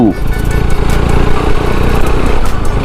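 A motorcycle engine drones steadily and loudly at close range while riding on a highway, mixed with wind rumble.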